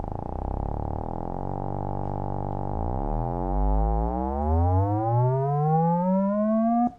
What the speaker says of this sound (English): When I speed it up, the pulses get so close together you can't hear the division between them anymore.